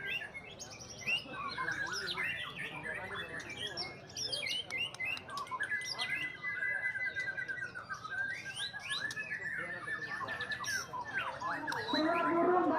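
White-rumped shama songbirds at a bird-singing contest pour out a dense, continuous stream of whistles, trills, chirps and squawks. Several birds overlap close by for the whole stretch.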